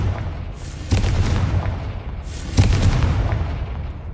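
Confringo fire spell cast in Hogwarts Legacy, heard as two loud booming blasts about a second and a half apart, each a sharp burst followed by a rumbling tail over steady game ambience.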